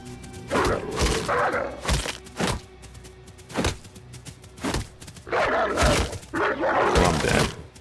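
Wolves in a survival video game let out a series of loud, harsh growls and barks in irregular bursts, some overlapping, with short gaps between.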